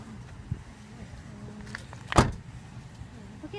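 A car door swings shut once with a single loud, close thump as someone climbs out of the vehicle, surrounded by quiet low background rumble.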